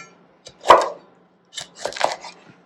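A knife chops half a small cauliflower into small pieces on a board, with one solid thud followed after a pause by a quick cluster of three or four close, crisp cuts, in an otherwise quiet kitchen.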